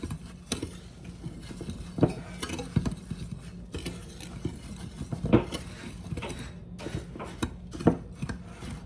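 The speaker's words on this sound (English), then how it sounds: "we're just going to give them a quick mix" Dry muffin ingredients of flour, cinnamon and salt are stirred in a bowl, with scattered clinks and scrapes of a utensil against the side at an uneven pace, close and moderately quiet.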